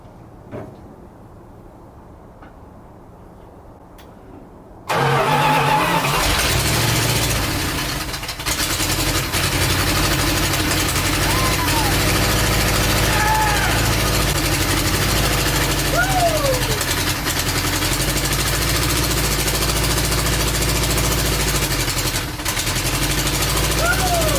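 A 1971 Dodge Demon engine cranks and fires up after a quiet moment, then settles into a loud, steady, rough idle nearby with faint voices talking over it.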